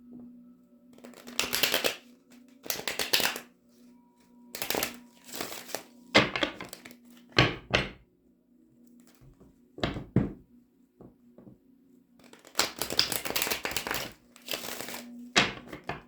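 Bursts of papery shuffling and riffling of a Rider-Waite tarot deck come in several rounds, loud and close, with short taps and soft handling noises between them.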